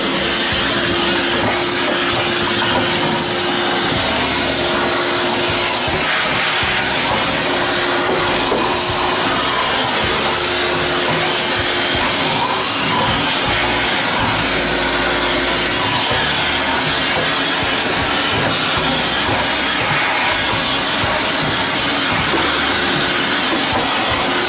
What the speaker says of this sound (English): So we got the shop vac, let's get with it.